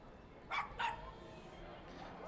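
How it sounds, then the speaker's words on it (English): Dogs at a minor-league baseball game between the Sugar Land Skeeters and York give two quick, sharp barks in close succession, standing out over the ballpark murmur, with voices talking in the background. "So yeah, you'll hear the barks all night."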